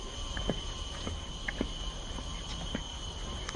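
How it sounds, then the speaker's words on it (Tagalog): Crickets in a Singapore forest keep up a steady, faint, high-pitched chirping and trilling throughout, with occasional soft ticks and no talk over it. "Grabe yung mga kuliglig dito, no?"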